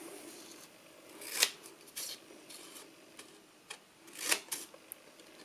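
Scissors cutting fringe for a DIY Halloween witch's broom make a few sharp, close snips spaced irregularly over a quiet background.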